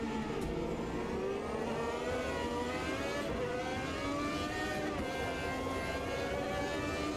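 A Formula V12 race car in the Automobilista 2 racing game holds a steady, loud engine howl, the pitch rising and falling slightly with throttle throughout, with no talk over it.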